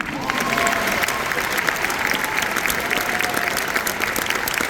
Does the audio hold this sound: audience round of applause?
yes